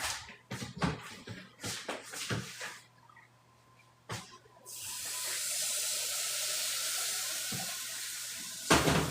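Tap water runs into a pot while potato gravy is being made: a few clinks and shuffles of kitchen handling come first, then a steady, continuous hissing stream pours for several seconds before cutting off.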